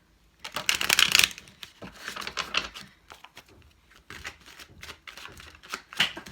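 Tarot cards being shuffled by hand in quick riffling bursts, crisp papery flutters separated by short pauses, close and fairly loud, with no talking.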